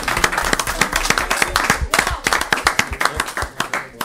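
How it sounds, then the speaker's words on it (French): A church congregation claps in loose, irregular rhythm, loud and close, with some voices mixed in. "on acclame le Seigneur pour le Gabon"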